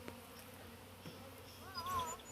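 A honeybee swarm clustered in clumps gives off a faint, steady buzzing drone, with a few brief higher whines from individual bees rising near the end.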